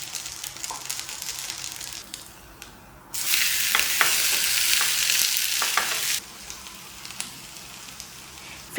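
Bread dosa is set on a hot pan, where a sudden loud sizzle rises, holds steadily for about three seconds, then drops back to a quieter crackle with a few light clinks.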